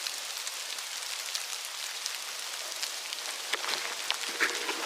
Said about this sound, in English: That is hail.